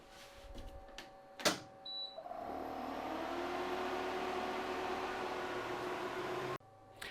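A laser cutting machine working on a woodworking job hums and whirs steadily at moderate volume after a few short clicks and a sharp knock at the start, then cuts off near the end.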